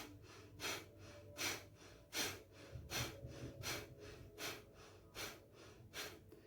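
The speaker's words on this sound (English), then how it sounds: "It's a sharp exhale with the stomach, the navel point pulled in every exhale." Breath of fire practiced during a guided meditation: sharp, forceful nasal exhales driven by the navel pulling in, repeating in a steady rhythm of about eight close, moderately loud bursts with no talking.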